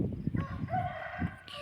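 Chickens on a poultry farm, a mix of short clucks and a drawn-out crowing call, heard close and moderately loud over low background noise.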